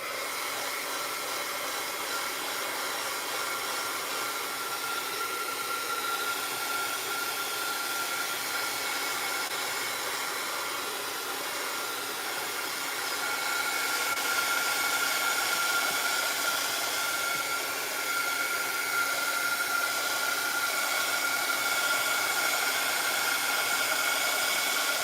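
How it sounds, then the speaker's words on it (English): A hair dryer blows continuously, a steady loud whooshing roar that grows slightly stronger partway through. "blow dryer alert for those who can't stand to hear this blow dryer"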